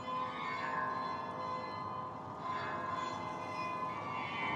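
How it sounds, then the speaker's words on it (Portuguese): A church bell in Ypres rings from a distance, its tone hanging and swelling in repeated waves over a steady, faint background. "Olha que bonito o sino aí"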